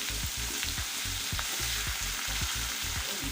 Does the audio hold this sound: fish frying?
yes